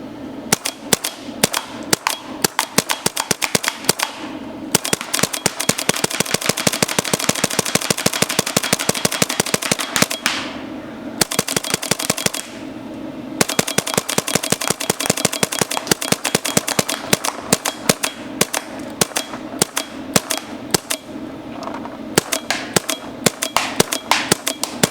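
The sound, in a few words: paintball marker (Empire Resurrection) shooting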